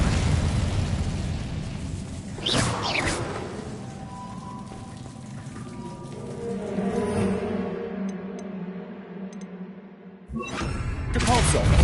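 Incendio fire spell cast in Hogwarts Legacy, a burst of fiery whooshing and crackle with a deep rumble that fades, then a second sharp blast near the end, with game music underneath.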